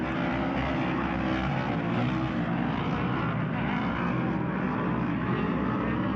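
A Honda Odyssey off-road racing buggy engine runs steadily at the Glen Helen track, a continuous loud, droning motor roar that fills the scene without letup and with no clear breaks in the sound.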